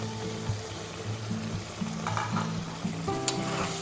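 Red holy basil leaves go into chicken stir-frying in a hot pan, giving a steady sizzle with light stirring scrapes and a brief clatter near the end.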